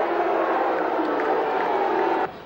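An Australian rules football crowd at an AFL match in 2000 cheers and applauds, a dense, steady roar that holds for a couple of seconds and then drops off sharply.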